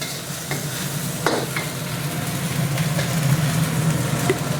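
Loud, steady sizzle of rice being stir-fried in a hot iron wok over high heat, with scraping and tossing sounds over a low rumbling flame.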